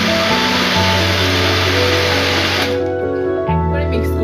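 A blender grinding nuts for a milkshake, a loud, continuous motor whir with a shifting pitch that eases down partway through, with speech underneath.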